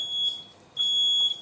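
A kitchen smoke alarm sounds during cooking of sausage milk gravy, giving two long shrill electronic beeps separated by a short gap, fairly clear and alone.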